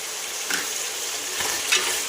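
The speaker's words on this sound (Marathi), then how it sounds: "याला छानपैकी असं फ्राय करून घ्यायचं आहे" Onion-garlic masala fries in a pan, a close, bright, steady sizzle broken by a few scraping stirs, with no one speaking.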